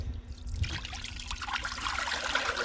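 Water trickles and pours in a steady, close stream while soaking green walnuts for jam get fresh water, with light splashing throughout.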